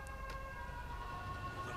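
An ambulance siren in the video game GTA V, a faint wailing tone sustained through the short stretch beneath low engine rumble.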